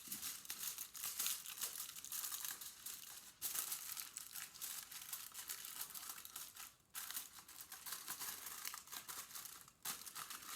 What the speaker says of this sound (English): And I kind of crumple it up.